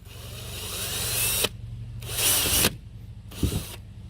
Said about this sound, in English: And just drill into the middle here.